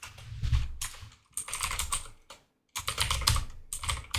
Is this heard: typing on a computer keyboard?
yes